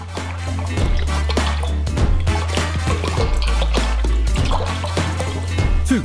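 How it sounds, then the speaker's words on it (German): Coconut milk poured into a pot, close thick liquid glugging and dripping with a low hum beneath, continuing steadily for several seconds. "Gießen wir Kokosmilch in einen Topf."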